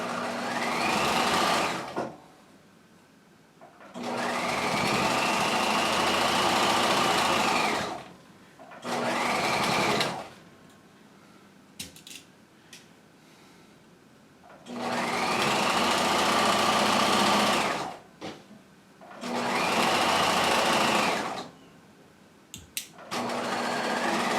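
A sewing machine stitches a jacket sleeve seam in four long, steady whirring runs separated by short pauses, loud and close with no talking.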